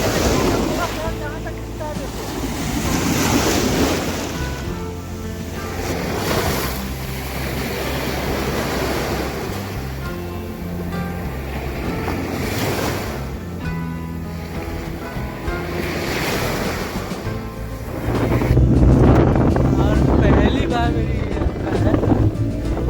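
Sea waves and wind roar steadily around a boat crossing the sea toward Bet Dwarka, loud and continuous throughout, with a stronger gust near the end and a voice faintly mixed under the noise.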